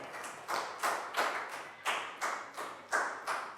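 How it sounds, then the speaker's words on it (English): A Year 3 maths class claps for a classmate in a round of applause, heard as about ten distinct, fairly even rhythmic claps close by, alone with no talking. "big round of applause for Preu"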